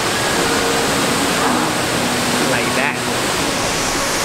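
A California waterfall rushes in a steady, loud, broadband roar near a trout stream, with a voice speaking briefly over the water.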